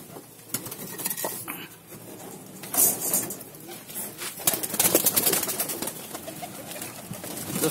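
Pigeons coo close by while pecking and scattering grain from a feeding tray, with light clattering taps on the tray, steady and fairly busy throughout.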